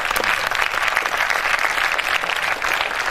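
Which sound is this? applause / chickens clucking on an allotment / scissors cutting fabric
applause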